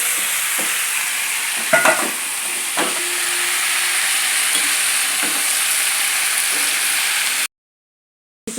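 Broad beans sizzle and hiss in a hot pan for a bean curry while a spoon stirs and scrapes now and then, a loud, close frying sound that cuts off abruptly near the end.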